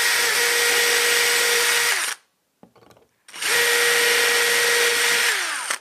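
A power drill pre-drills the metal slats of a wood-and-metal composter. Two close, loud whining bursts come at full speed, separated by a short pause with a few faint clicks, and each burst winds down at its end.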